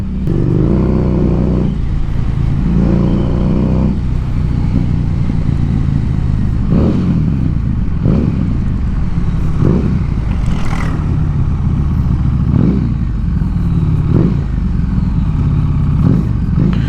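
A Harley-Davidson Street 750 motorcycle revs loudly up close, its engine and exhaust rising and falling in repeated throttle blips with a deep rumble and crackling bursts, and no voices.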